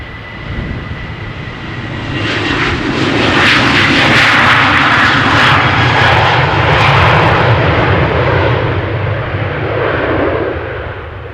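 A jet aircraft departs runway 36L at Amsterdam Schiphol Airport, its engine roar swelling loud and broad over several seconds, holding steady, then easing slightly as it moves away; no speech.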